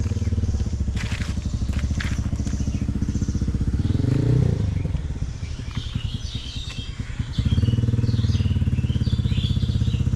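A motorcycle rolls slowly along a slippery, muddy road, its engine a close, steady low rumble that eases and swells with the throttle, with faint clatter and occasional bird chirps around it.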